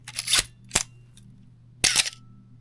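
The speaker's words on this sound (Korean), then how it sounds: "셔터 스피드를 좀 빠르게 그냥 125분의 1 많이 사용하는 셔터 스피드를 해놓고 셔터 음을 한번 들어보겠습니다" A Canon AE-1 film camera fires its shutter at 1/125 second, giving sharp mechanical clacks: a burst, a second crisp snap, then another clack after a short pause, close and dry against a quiet background.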